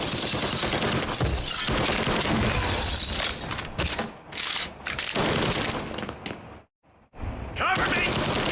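Gunfire in the video game Mafia Definitive Edition: loud, sustained bursts of shots and impacts fill most of the stretch, broken by a brief near-silent gap before firing resumes, with a voice speaking over the action.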